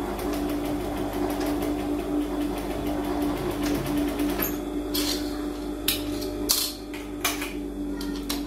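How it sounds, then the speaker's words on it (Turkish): A sewing machine stitches a V-neck collar in a rapid, even mechanical run, then stops and is followed by several sharp clicks and taps, heard close with no talking. "şuradaki tam üçgenlik ortaya çıkacak şekilde bir dikiş atacağım"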